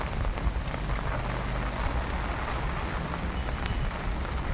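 Heavy rain pouring down outdoors, a dense, loud, continuous roar of drops hitting surfaces, steady and close with no pauses.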